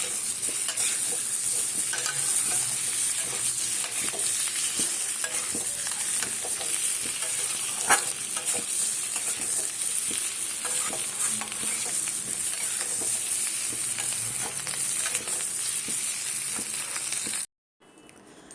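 Potatoes fry in refined oil in a kadai, giving a continuous close sizzle with frequent crackles and occasional stirring for about seventeen seconds before it cuts off suddenly.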